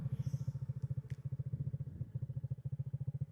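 ADV 150 scooter engine idling through a JD muffler with a Shark Tip, a steady, even, rapid thumping exhaust pulse heard up close, with a couple of faint light clicks in the middle.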